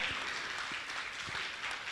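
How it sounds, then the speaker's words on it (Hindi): Audience applause at a gathering with a Jain monk, a broad wash of many hands clapping, steady and moderately distant, with no talking over it. "तालियां बजाइए आप।"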